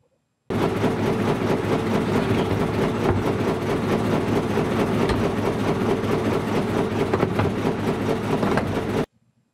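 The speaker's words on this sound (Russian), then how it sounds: "Здесь видны маховики, электродвигатель и плоский ремень, соединяющий шкив двигателя и больших колес маховиков." Sawmill flywheels turned by an electric motor through a flat belt: a steady, loud mechanical drone with a low rumble and a constant whirring hum, continuous and unbroken for several seconds.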